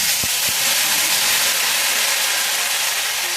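Ginger paste frying in hot oil with asafoetida for a Bengali aloo dum, opening with two quick dull knocks and then settling into a continuous, loud, close sizzling hiss.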